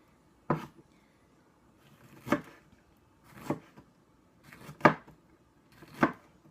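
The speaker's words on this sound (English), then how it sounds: "These are pretty big chunks of jalapeno, I just realized, but you can make them smaller, cut them into 8s" A knife chops a jalapeno into chunks on a board for guacamole: five crisp, separate chops at uneven intervals, close and clear, with no voices.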